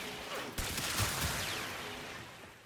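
Amprex beam weapon in the video game Warframe firing, a sudden burst of crackling electric chatter with sweeping arcing whines that trail off over a couple of seconds.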